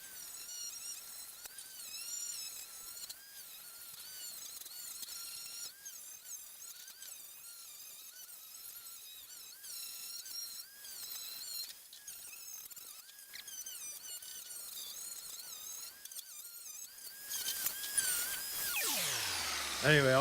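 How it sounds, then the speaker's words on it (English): Wire wheel on an angle grinder scrubbing VW Beetle engine tins, a steady high whining squeal with rough scraping that wavers as pressure shifts, continuous and close, rising louder and brighter near the end. "I've got the grinder out and it's awesome to use."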